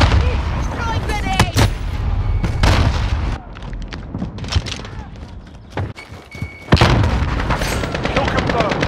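Grenade blasts and gunfire in Call of Duty Modern Warfare multiplayer on PS4 Pro: loud booming thumps and sharp shots close by, mixed with game voice callouts.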